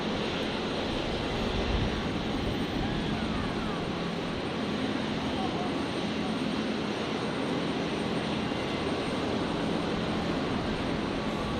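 Aircraft at Brisbane International Airport, heard from a plane spotting position, produce a continuous broadband engine roar. It stays steady and moderately distant for the whole stretch, with no talk over it.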